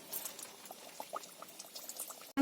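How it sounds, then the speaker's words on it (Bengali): Mughlai parathas stuffed with paneer frying in hot oil, a faint, steady bubbling crackle throughout, cut off by a sudden loud knock at the very end, with no talking. "তেলটা আমার গরম হয়ে গেছে, এবার আমি তেলের মধ্যে মোগলাইগুলো দিয়ে দেবো"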